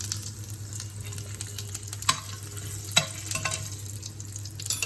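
Cashews go into a pan of browned, frying cumin, a steady close sizzle of hot oil with a few sharp clinks and scrapes of stirring.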